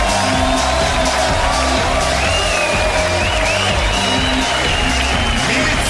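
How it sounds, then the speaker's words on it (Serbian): A studio audience applauds and cheers for a couple arriving on a Serbian TV quiz show, steady dense clapping with scattered whoops filling the whole stretch at close, loud level. "Nastavite ovaj aplauz za Milicu Mitrić i Miroslava"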